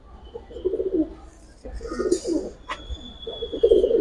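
Giribaz and silver pigeons kept for sale coo close by in low, rolling bursts, with a few short chirps and faint background noise between calls.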